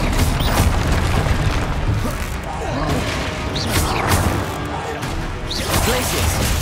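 Confringo blast spells explode during a busy Hogwarts Legacy battle, heard as repeated heavy booms and crashes within a dense, continuous din of combat effects and occasional voices.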